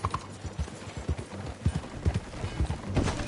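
Horse hooves clip-clop in a steady uneven rhythm as a rider sets off on horseback, close and fairly loud, with no talk over them.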